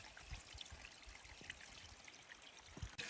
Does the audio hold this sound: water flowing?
yes